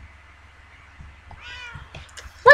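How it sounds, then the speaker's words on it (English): A cat gives a single short, fairly faint meow in a quiet room, followed moments later by a sharper, louder cry. "That was a kitty! Sounded like a kitty!"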